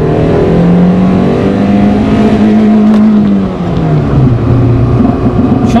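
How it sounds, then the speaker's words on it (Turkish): A Peugeot 106 Quiksilver hatchback accelerates hard in first gear on an open road, its engine note climbing steadily in pitch, then briefly dipping before revving up again, loud and close with no talking. "Bakalım birinci viteste arabamız kaç görecek."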